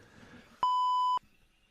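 A single steady electronic beep sounds for about half a second, clear and loud against faint room noise and muffled background chatter.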